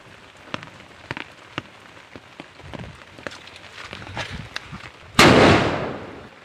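Diwali firecrackers pop in scattered sharp cracks, then one loud close burst rings out with a long crackling decay near the end.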